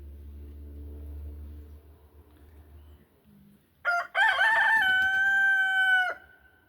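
A rooster crows once, loud and fairly close, a long drawn-out call that follows a low rumbling hum.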